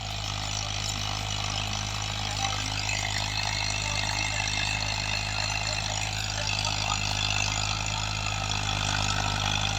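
Fiat 480 tractor in second gear pulling a new Asia rotavator, a steady low engine drone under load with a continuous churning rumble of the rotavator, close and unbroken, no voices.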